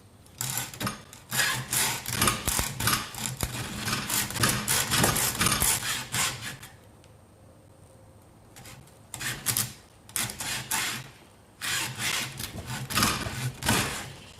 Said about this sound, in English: when it starts like grating against the side like that, it's getting through the last few burrs of that metal